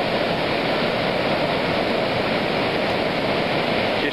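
Surf breaking at Somerville Beach makes a steady, dense roar of white water that stays loud and unbroken throughout, with no voices.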